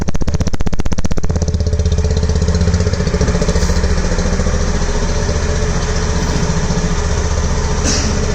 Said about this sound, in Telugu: మీ ఎగ్జాస్ట్ నోట్ చూడండి ఎంత బాగుందో